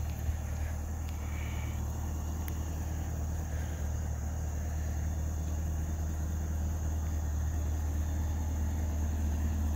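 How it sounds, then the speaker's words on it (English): A 650-horsepower 2018 Camaro ZL1 convertible with automatic transmission and 18k miles idles in a low, even, steady rumble, heard alone without voices. "Doesn't sound like 650 horsepower, but that's the new efficient engines built these days."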